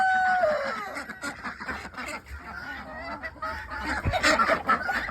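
A turkey and ducks call close by in a yard, loud honking and clucking bursts rising and falling over a few seconds, with no talk.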